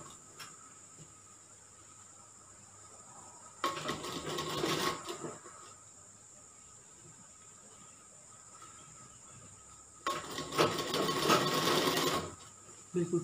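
A sewing machine stitches a curved seam on a kali gown in two short bursts of steady running, each about a second or two long, separated by quiet handling of the fabric.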